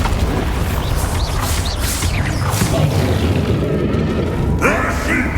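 Loud magical blast of the Bombarda spell in Hogwarts Legacy amid a spell-casting duel, booming impacts layered over continuous battle noise and a speaking voice.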